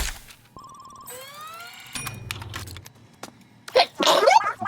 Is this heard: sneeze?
yes